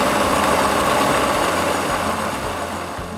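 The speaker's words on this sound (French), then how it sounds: "vous allez le verser dans un mixeur ou dans un robot bien puissant" A powerful blender or food processor whirs steadily at full speed as it purées a vegetable soup, a loud continuous motor drone with no talking.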